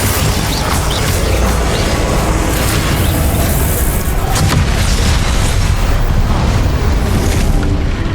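Spell blasts in Hogwarts Legacy combat, a dense, loud and continuous rumble of booming bursts and crackling impacts that runs unbroken from start to finish.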